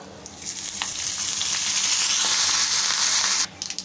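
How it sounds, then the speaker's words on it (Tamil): Mustard seeds, asafoetida and curry leaves sizzle loudly in hot coconut oil and ghee, a close, dense frying hiss with faint pops that swells and holds, then drops off abruptly near the end. "ஹீட்டானதும் ஃபஸ்ட்டு கடுகு சேர்த்துக்கலாம் பெருங்காயம் சேர்த்துக்கலாம் கூடவே கொஞ்சம் கருவேப்பிலையும் ஆட் பண்ணிவிடுவோம்"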